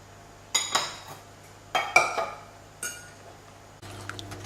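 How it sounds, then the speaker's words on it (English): A spoon mixing ingredients in a pot before heating, heard as a few distinct metallic clinks and scrapes in short bursts, close and clear, with a soft hum underneath. "So I'm just mixing it a little bit before I put the heat on."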